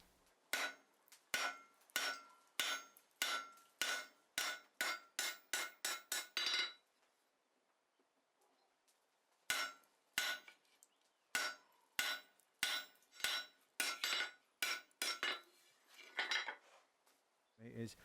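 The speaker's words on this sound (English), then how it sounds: "I will spread the material for the blade here, and I will dig a trough until my cross peen is touching the bottom of that trough" A cross peen hammer strikes hot metal on an anvil while spreading material for a door latch blade, giving a rapid run of sharp ringing blows, a short pause, then another steady burst of hits, close and loud.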